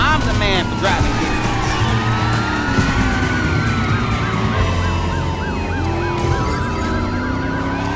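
Police sirens wail and sweep up and down in a chase through the streets of Driver San Francisco, loud and continuous over engine roar and traffic, with someone talking throughout.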